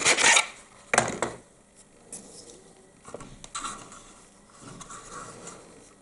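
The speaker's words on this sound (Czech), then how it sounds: "Nejdřív to protáhnu pilkou." A small hand saw cuts through a plastic part from a 1:32 Revell Hawker Tempest Mk.V model kit. The rasping strokes come in short, separate bursts, close and fairly quiet, with no talking.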